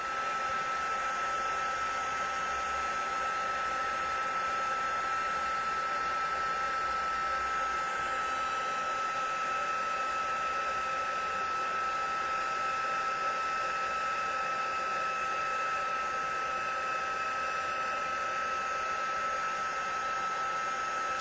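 A heat tool for white embossing on craft card whirs steadily for about twenty seconds as it warms up, a constant close airy hum of fan noise with no breaks.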